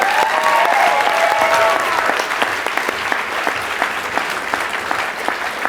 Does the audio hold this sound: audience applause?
yes